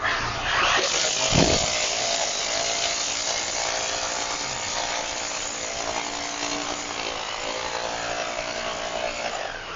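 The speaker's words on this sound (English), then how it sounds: "Go ahead and advance it with the hammer drill." A hammer drill roars continuously, close and loud, with a steady buzzing hammering tone as it drives a pipe down into the ground for a residential sinkhole repair, one sharp surge near the start.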